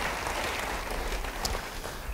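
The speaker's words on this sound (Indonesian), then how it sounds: "Yang mau beri tepuk tangan bagi dia." Congregation clapping during a church sermon, a brief, busy wash of applause with a low rumble beneath, fairly close and steady, with one sharper clap standing out near the end.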